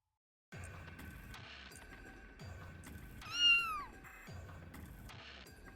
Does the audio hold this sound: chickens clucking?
no